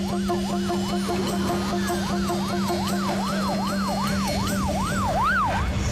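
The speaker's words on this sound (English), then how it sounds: "dispatched a high-speed ambulance of the future" A wailing emergency siren in a futuristic city scene cycles in steady rising-and-falling sweeps, loud and continuous over a low steady drone, with no voices.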